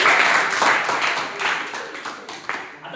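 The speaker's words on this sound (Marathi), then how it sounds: "टाळ्या अपेक्षितच आहेत." A crowd claps at a political rally for an MLA election in Takalgaon, a burst of dense applause that thins and fades over a few seconds.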